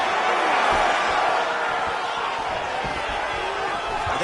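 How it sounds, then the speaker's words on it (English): Loud, steady roar of an arena crowd cheering at a mixed martial arts fight, a dense wash of voices and whoops that holds throughout with faint thuds underneath. "The crowd's going crazy because they appreciate high-level mixed martial arts"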